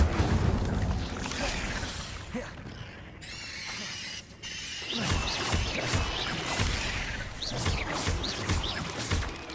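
The Incendio fire spell being cast in Hogwarts Legacy, loud whooshing and crackling bursts amid clattering combat effects and booms, steady and busy throughout with faint talk underneath.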